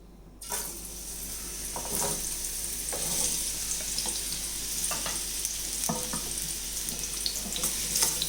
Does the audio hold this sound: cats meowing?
no